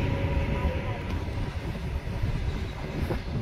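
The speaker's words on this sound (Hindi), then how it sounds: "देखो ट्रेन आसीगला" A train rumbles steadily past about a kilometre from a house, a continuous low roar with faint rail clatter, while people talk over it.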